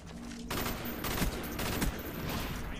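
Rapid bursts of automatic gunfire from the Black Ops video game, several quick volleys of sharp cracks fired in close succession at a fairly quiet level.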